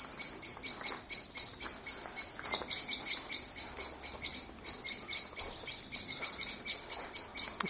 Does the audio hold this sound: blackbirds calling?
yes